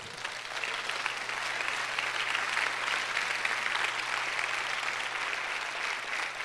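A congregation in a tent church in Hidalgo, Mexico, claps in steady, continuous applause, moderately loud and even throughout, with a low constant hum underneath.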